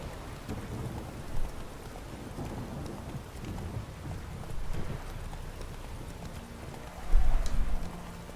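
Horse galloping along a road in the video game The Witcher 3, a soft, steady hoofbeat rhythm under a rainy, stormy backdrop with a low rumble near the end.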